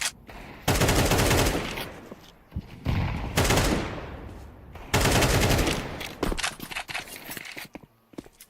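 Pistol gunfire in an esports video game match, with dense bursts of rapid shots in several volleys and scattered single shots between them, loud and up front, with no talking.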